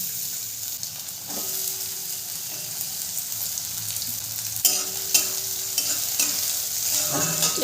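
Chopped onion fries in hot mustard oil in a kadai, a continuous bright sizzle close by with repeated spatula scrapes and clinks against the metal, and no voices.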